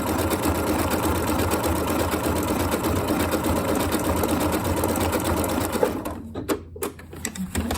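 A Janome Royal sewing machine stitches an appliqué with a fast, even mechanical whir and needle clatter, loud and close, before briefly stopping and restarting near the end.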